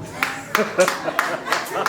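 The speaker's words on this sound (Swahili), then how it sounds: "So wewe msichana jipigie makofi mazuri" A church congregation claps in a steady, fast rhythm for a girl, with sharp, evenly spaced claps close by and voices faintly underneath.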